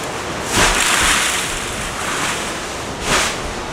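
Ocean waves on an island shore wash in and surge in broad swells, loud and near with steady wind noise on the microphone and no voices.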